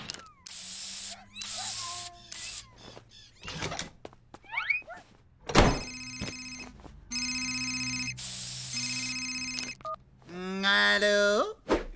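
In a French cartoon, a telephone rings in repeated loud electronic bursts as a call is placed to the vet. Cartoon sound effects surround the ringing, and voices speak between the rings.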